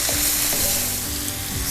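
Red pepper and celery fry in a pan while being stirred, giving a loud, continuous close-up sizzle with soft scraping strokes and no talking.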